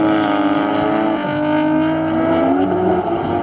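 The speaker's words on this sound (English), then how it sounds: "This is a girl drifting, first time." A car drifting at a drift event, its engine holding a loud, close, sustained high-revving tone with shifting pitch and a rough tire-scrub texture, no talking.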